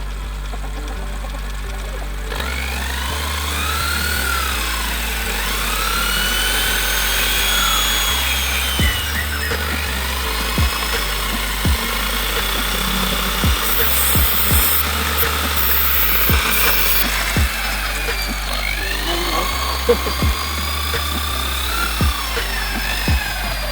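An electric drill spins a homemade electricity generator, whirring continuously, its motor pitch rising and falling as speed changes, with repeated light clicks and knocks throughout.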